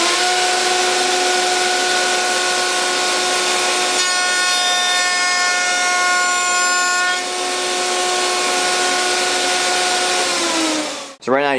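A Festool CMS router running at full speed through a test cut in wood, a loud steady high-pitched whine that shifts slightly mid-cut, then winds down sharply as the motor spins down at the end.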